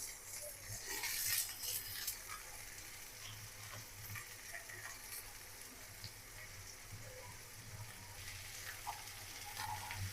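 Bitter gourd and potato hitting hot oil with cumin, green chillies and onion, giving a soft, steady sizzle and crackle with occasional stirring scrapes, fairly faint and continuous.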